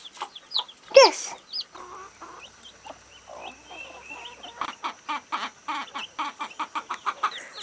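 Two broody mother hens cluck softly among their batches of chicks of different ages, making a busy, close run of short clucks and thin peeps with one louder squawk near the start.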